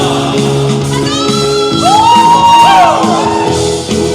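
A crowd at an El Shaddai religious gathering shouts and whoops together in a loud, sustained roar, with rising voices swelling in the middle and no clear speech over it.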